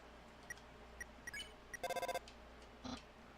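A phone call ringing in the video game Undertale: a few short, spaced electronic blips, then a quick run of bright repeating ring tones and a final brief chirp. The sounds are clear and stand alone over a quiet background.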